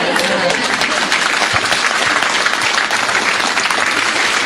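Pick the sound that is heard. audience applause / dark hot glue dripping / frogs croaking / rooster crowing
audience applause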